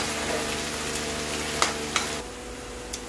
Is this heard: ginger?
yes